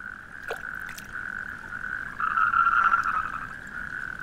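Endangered toads croaking in a mating chorus on wasteland between the Rhine and Ruhr, a steady trilling call that swells louder midway, outdoors with no voices.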